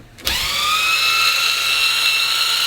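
A cheap cordless power drill bought from Amazon, a non-brushless model, spins up abruptly and holds a steady, loud motor whine with a high tonal hum, running alone without talk.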